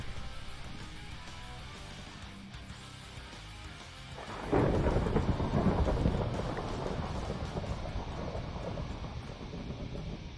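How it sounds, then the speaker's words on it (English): Thunder from the Minecraft video game rolls in after a quiet stretch, breaking into a loud, sustained rumble over a rainstorm that keeps going to the end. "thundering now"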